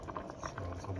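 Mung bean soup with shrimp bubbling at a steady boil in a pot, a soft continuous simmering patter close by with a low hum underneath.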